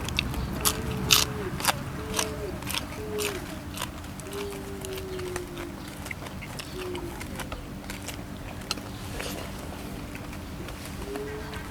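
Crispy pork with noodle papaya salad is being eaten close to the mic, with repeated sharp crunching bites and chewing, and a few appreciative hums from the eater between mouthfuls.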